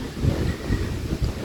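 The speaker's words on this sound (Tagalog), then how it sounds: "kita nyo yung hangin" Strong wind gusts around a house roof with corrugated metal sheeting, a low, rumbling roar buffeting close against the microphone in uneven surges, with no voices.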